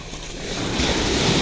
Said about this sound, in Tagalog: Kasi malakas yung alon mga kagimat.